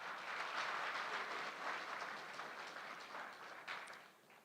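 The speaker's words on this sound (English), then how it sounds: "Let's give them a round of applause." Applause from an audience at a public youth engagement event in Namibia, a steady wash of many hands clapping that holds for several seconds and thins slightly toward the end.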